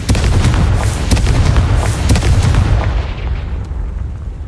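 A Confringo spell explosion in Hogwarts Legacy, a loud, close fiery blast with crackling bursts that rumbles on and slowly fades over a few seconds.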